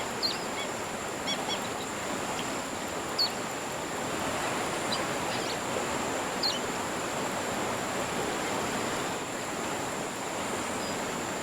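A waterfall on the Congo River in the fishing game Fishing Planet gives a steady, loud, even roar throughout, with faint bird chirps now and then above it.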